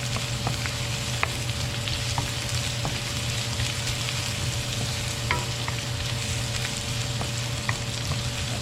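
Onion and garlic sauté in a pan for goat kaldereta, giving a steady, close, dense sizzle with faint scattered pops and occasional stirring ticks throughout, with no talking.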